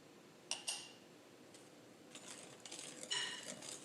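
Unsweetened cocoa powder and salt are stirred into brownie batter, giving faint scattered clinks and scrapes of a utensil against the bowl, with a few sharper taps standing out against a quiet background.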